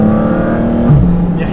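Porsche Cayman GT4 RS flat-six idling low at about 3000 rpm, a steady close engine drone with intake noise and a slight swell near the end.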